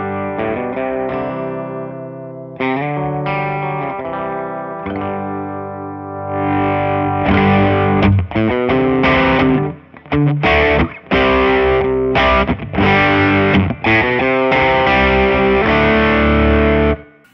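Distorted electric guitar on the bridge pickup with the gain dialed back slightly, chords and riffs ringing loud and sustained, breaking into choppy stabs with brief gaps toward the end, no talking.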